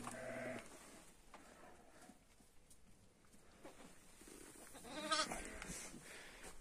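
Sheep bleat faintly in a village pen during lambing, a few thin calls scattered over quiet background, with one louder, nearer bleat near the end.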